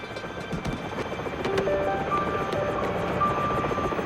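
A cartoon helicopter bot flies with a steady rotor drone that grows louder partway through, while faint tones and clicks sound over it.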